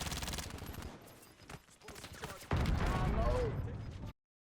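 Gunfire in Call of Duty Warzone, rapid automatic bursts that grow into a louder, denser volley near the end, with a voice talking over part of it.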